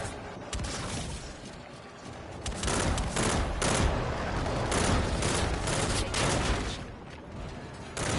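Dense gunfire from Call of Duty rattles almost nonstop in rapid automatic bursts, with sharp cracks and impacts layered close and loud over several seconds.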